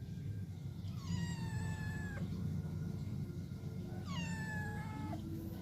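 A cat meows twice, each a clear drawn-out call that slides downward, the second after a pause, over a constant low background hum.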